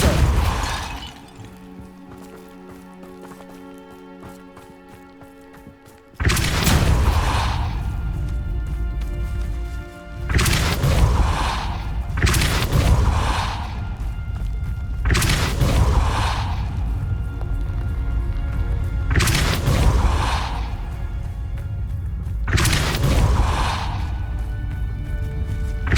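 Repeated Depulso spell casts in the video game Hogwarts Legacy, five heavy booming blasts with shattering crashes at roughly even intervals over a quieter game soundscape.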